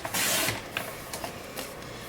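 A trimmer blade slices across a sheet of 8.5 by 11 cardstock in one quiet, brief scraping swipe, followed by a few faint clicks and taps.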